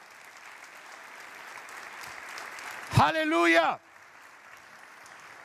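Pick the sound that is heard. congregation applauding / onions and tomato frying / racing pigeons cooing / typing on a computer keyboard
congregation applauding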